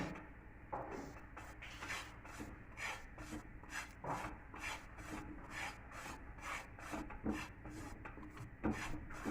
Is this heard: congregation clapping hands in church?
no